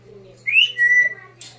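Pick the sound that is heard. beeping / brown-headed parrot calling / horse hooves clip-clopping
brown-headed parrot calling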